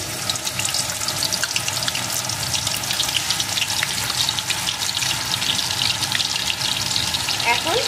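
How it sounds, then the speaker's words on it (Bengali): Two tablespoons of onion paste fry for Bengali-style chicken chaap, a loud, dense hiss and crackle sustained throughout, with a faint low murmur in the background. "এখন পেঁয়াজটাকে সুন্দর করে কিছুক্ষণ ভেজে নেব।"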